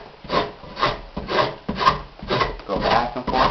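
Drawknife shaving wood clamped in a shaving horse in a wood turning shop, a rhythmic rasping scrape repeated back and forth about seven times, close and fairly loud.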